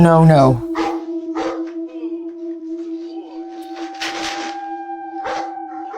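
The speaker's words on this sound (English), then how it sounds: "The dog." A dog gives a brief howling cry, then several sharp bark-like bursts follow at intervals over a steady tone, fairly close and loud at the start.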